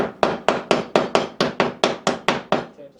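A hammer taps a staple down into a wooden beehive roof in about eleven steady, evenly paced knocks, close and solid, each with a brief woody ring that fades before the next strike.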